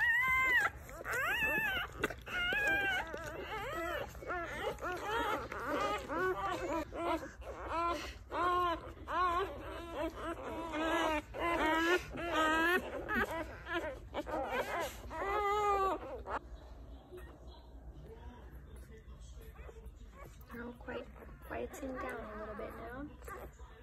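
Thin, high whimpers and squeals from newborn Labrador puppies, repeated and wavering, close by, fading to quieter whines toward the end.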